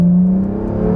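A 2017 Acura NSX engine revs and accelerates up close, a loud steady whirring drone with a rising tone held for a second, no voices over it.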